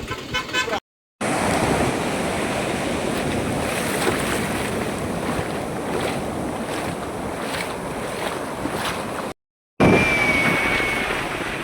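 Ocean waves washing onto Chirala Beach in Andhra Pradesh, a continuous broad roar of surf mixed with strong wind buffeting the microphone, broken by two brief silent gaps.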